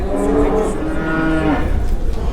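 Cattle at a livestock market moo in long, loud, drawn-out calls close by, one low bellow overlapping others over a dense background of animal noise.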